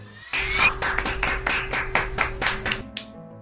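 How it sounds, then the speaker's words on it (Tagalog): A Grade 8 class claps in a quick, even rhythm of about a dozen sharp group claps over a steady tone, then the clapping stops abruptly. "Romano, salubungin na palakpak na mainit!"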